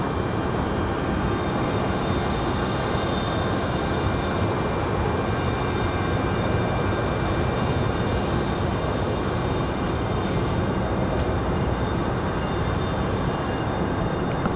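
Southwest Airlines jet departing Raleigh Durham airport, a powerful sustained engine roar with high whining tones layered over broad rumble, staying loud and steady the whole time with no talking.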